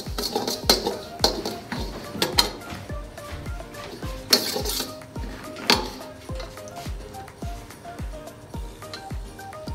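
A spoon stirs semolina roasting in a pot for saffron suji halwa, giving a steady run of rhythmic scraping strokes, close and moderately loud, with no talking.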